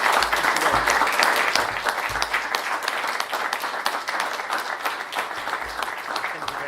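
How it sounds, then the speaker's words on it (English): An audience at an evening talk on conservatism applauds speaker John O'Sullivan: steady, dense clapping from a crowd that holds throughout, fairly close and loud, with some rise and fall in intensity. "I think John deserves another round of applause."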